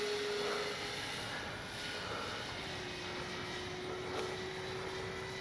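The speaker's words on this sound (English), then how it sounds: "Absolutely fabulous flying Mustang." An RC P-51D Mustang warbird model, 1600 mm, flies past with a steady thin engine drone holding a continuous whine, distant and fairly faint, with no talking.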